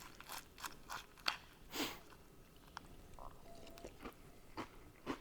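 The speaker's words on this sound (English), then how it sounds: "I always like my cereal to stay like more crunchy" Cereal with only a little milk being crunched and chewed close up, with a steady run of crisp crunches and soft chewing, quiet and without talk.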